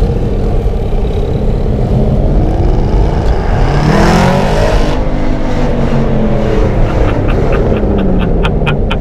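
An Aston Martin GT8 V8 accelerates hard on London streets, its loud engine note sweeping up through the gears and rising to a peak midway, then settling into a high whir with crisp ticking crackles near the end.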